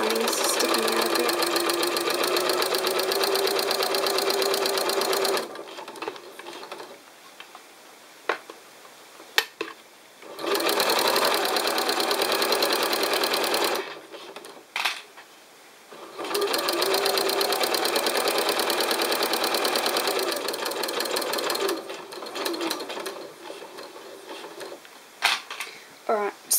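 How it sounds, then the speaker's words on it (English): A sewing machine stitches around a fabric lining in bursts of steady, loud whirring, pausing between runs with brief handling noises. "I'm just going to finish sewing around this"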